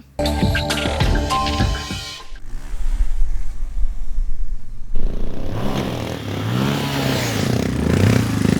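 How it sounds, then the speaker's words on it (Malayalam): Loud motorcycle engines rev and whine up and down during a stunt riding show, with clattering and scraping mixed into a busy, noisy outdoor scene. "ഇത് ടി എഫ് ടി ബൈക്ക് അഭ്യാസ പ്രകടനം"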